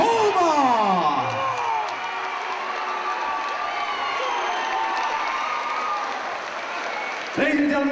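Sustained crowd applause with cheering fills the room after a two-round kickboxing bout, steady and loud throughout, with an announcer's amplified voice briefly over the start and end.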